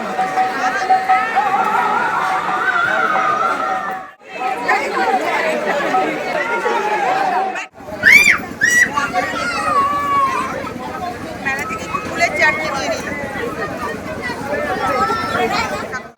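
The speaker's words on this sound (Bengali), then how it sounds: "মেলাতে এখন ভিড় দেখো হাঁটা যাচ্ছে না" A packed crowd at a Bengali village fair during a festival, so dense that walking is hard: steady close hubbub of many overlapping voices and chatter, briefly dipping twice, with children's shouts rising out of the din.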